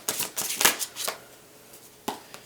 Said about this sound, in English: I'm going to go ahead and pull the cards for this reading.